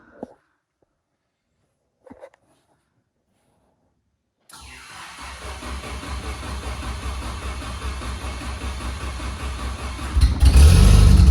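A Geo Tracker engine cranks and catches after a few seconds of quiet with faint knocks, then settles into a rough, rumbling idle indoors in a shop. It climbs into a loud, close rev at the end.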